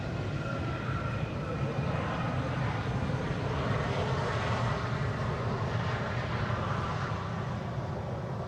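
A Transavia airliner approaches to land at Amsterdam Schiphol on a sunny day, its engines a continuous low rumbling drone at moderate distance with no break.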